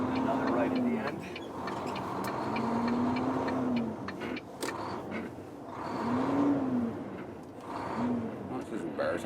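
A truck engine revs and climbs in pitch several times, dropping back between each rise as the driver shifts gears a little unevenly, heard from inside the cab with some faint talk.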